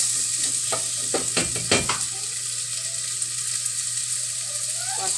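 Sliced patola and noodles are stirred in a sizzling pan, with a few sharp scraping strokes early on over a steady frying hiss, close and clear with no talking.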